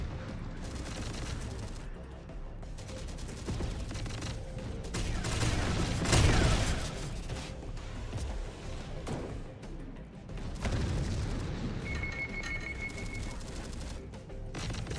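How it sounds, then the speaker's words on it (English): Plasma shotguns blasting at armored machines in Terminator Dark Fate Defiance, several loud bursty discharges with mechanical clanks and rumble between them, one heavy blast near the middle, no talking. "Let's test out the plasma shotguns on some armor."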